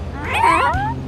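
A single drawn-out kitten meow in a PAW Patrol video game, wavering and whiny in pitch, close and clear over a quiet background hum.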